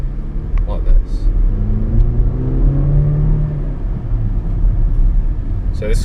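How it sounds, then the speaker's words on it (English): A 2019 Range Rover Velar P300 with a 2-litre four-cylinder turbo engine pulls away and gains speed, its rising engine drone steady and close beneath ongoing road rumble, with a person talking over it. "So this has got a 2-litre turbo engine"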